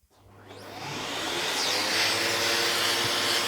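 A vacuum cleaner starts up and its suction runs through a connected hose, rising quickly into a loud, steady airy roar and holding there, with no talk.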